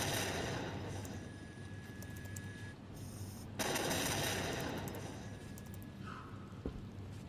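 Airship gun turrets in Batman: Arkham Knight fire in sustained rattling bursts with a brief pause midway, loud and continuous, with no talk over them.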